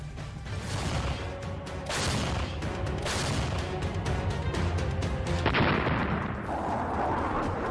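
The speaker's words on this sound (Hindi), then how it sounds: "बारूदी धमाकों का ऐसा शोर सुनाई दे रहा है" Shelling explosions during the war in Ukraine, a dense run of heavy booms and crackling blasts that rumble continuously, loud and sustained with no speech.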